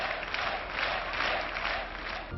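Sustained applause for François Léotard at a 1987 French political rally, a dense, even wash of clapping from a large crowd that fades slightly at the end.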